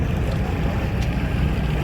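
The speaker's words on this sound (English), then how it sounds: "Finally, we began sailing." A ship sails out of Limbe into the Gulf of Guinea, heard as a steady low engine rumble with wind and water rush, continuous and close.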